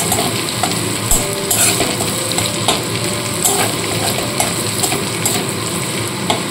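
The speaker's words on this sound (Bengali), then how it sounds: "আদা রসুনটা হালকা করে ভেজে নিলাম।" Ginger and garlic fry lightly in hot oil, a close, loud, crackling sizzle broken by repeated scraping stirs of a spatula against the pan.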